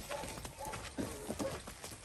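A filly's hooves clip-clop in a quick series of steps at moderate distance, with faint background voices mixed in.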